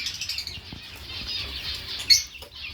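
Soft, rapid wing flutters from small birds, with faint high chirps and a brief sharper flap near the end, at low level throughout.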